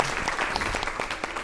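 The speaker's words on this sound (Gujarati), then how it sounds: "તાળીઓથી વધાવીએ" At a comedy poetry gathering, an audience claps in a dense, steady burst of applause, loud and close.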